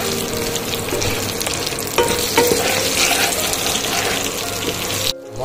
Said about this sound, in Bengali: এবার একটু ভালো করে মিশিয়ে নিতে হবে, কালারটা আরও সুন্দর আসবে